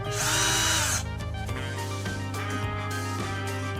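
A cordless drill/driver runs in second gear, the high-torque, slower-speed setting, with a loud whining spin-up followed by a steady motor hum that continues alone to the end.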